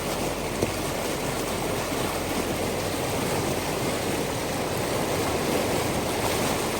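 Water gushes through a broken beaver dam with a constant, dense rushing roar, close by and steady from start to finish.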